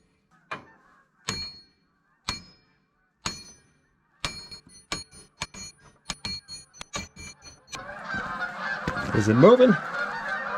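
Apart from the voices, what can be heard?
flock of geese honking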